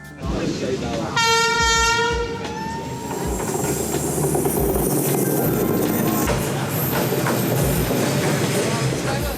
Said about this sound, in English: the train passing by numerous overpriced cafes